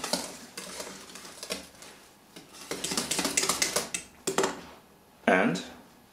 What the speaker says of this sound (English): A few more whisks to make sure it's exactly the consistency I want it to be.